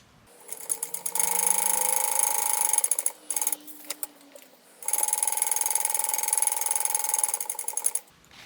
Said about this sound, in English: Taking your slip pocket, go ahead and top stitch down the folded edge of both of them.